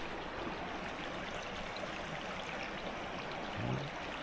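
Creek water flows steadily beneath a footbridge on a forest trail on Vancouver Island, a constant close rushing babble with a faint brief low sound near the end.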